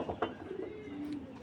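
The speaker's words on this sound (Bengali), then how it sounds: "কবুতরগুলো আপনারা আগে দেখুন সময় নিয়ে।" Pigeons of a light-coloured milky breed coo in a low, rolling phrase, close and fairly steady, with no talk over them.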